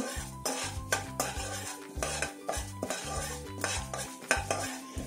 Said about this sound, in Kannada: ಸ್ವಲ್ಪ ಕೆಂಪು ಬಣ್ಣ ಬರೋವರೆಗೂ ಹುರಿಬೇಕು